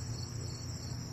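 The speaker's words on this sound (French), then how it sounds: "la cigale qui chante" A cicada sings in a steady, unbroken high buzz with a low background hum beneath it, continuous and fairly close, with no voices.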